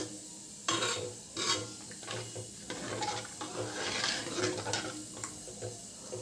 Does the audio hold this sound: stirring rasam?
yes